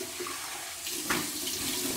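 Water running from a bathroom tap for a warm rinse after shaving, a steady splashing hiss that swells slightly midway, close and unbroken by speech.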